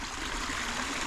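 River water in a channel beside a village road in rural Isaan, Thailand, a continuous close rushing and gushing with no pauses and no voices.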